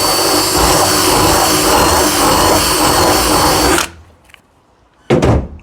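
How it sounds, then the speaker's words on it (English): A power drill redrills a hole in the aluminum hull of a 1958 Feathercraft Vagabond boat, a loud, steady close whine that stops abruptly near the end, followed by a short silence and then a brief final burst. "Expertly redrilling."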